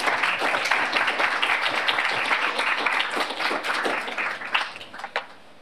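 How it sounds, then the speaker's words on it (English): Audience applause for speakers at a talk on human-compatible world models, dense steady clapping filling the room before thinning out near the end. "let's give a warm applause to Jonas, Constantin, and Robert."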